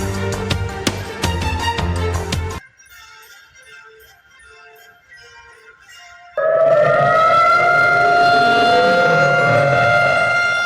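An air-raid siren sounds at dawn to mark the anniversary of an attack. A long, loud wailing tone fills the last several seconds and slowly falls in pitch, after a stretch of music and a quieter pause.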